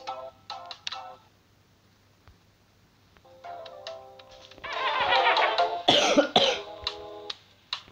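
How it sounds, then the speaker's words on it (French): A single cough with a throat-clearing rasp lands amid short electronic beeps and chimes from a video game, near and fairly loud against otherwise quiet moments. "Désolé, j'ai toussé."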